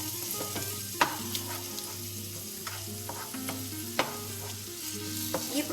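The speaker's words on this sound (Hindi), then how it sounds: "ये हमने पालक तब तक भूनना है जब तक जो इसका पालक का मॉइस्चर है वो हमारा सारा" Spinach sautéing in a pan to cook off its moisture, with a continuous close frying sizzle and a few sharp clinks and scrapes from the stirring spoon. No one talks.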